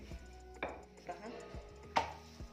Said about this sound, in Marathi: याच पद्धतीने मी बाकीच्या देखील पोळ्या लाटून घेते